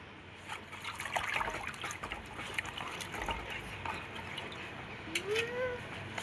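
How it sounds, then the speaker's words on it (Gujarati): Phang leaves are swished and rinsed in a container of water in a home kitchen, making soft irregular trickles and splashes up close, with faint background noise between them. "હવે આપણે ફાંગના પાંદડા લઈ લીધા છે, એને આપણે પાણીમાં નાખીને ધોઈ"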